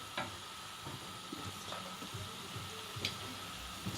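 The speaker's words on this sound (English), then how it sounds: "So I'm just going to add all my veggies into here now as well." Vegetables tipped into a pan and stirred through a lasagna sauce, giving a soft, steady sizzle with light scraping stirs and a few small clinks, fairly quiet and without talk.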